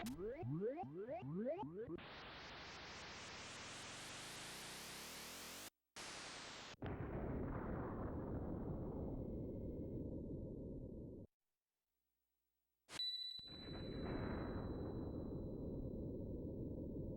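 A weapon firing sequence in the video game Tales of Phantasia, with a rising, charging sweep, a sharp cut, then a long roaring blast. A brief silence follows, then a bright ringing tone and another sustained roar.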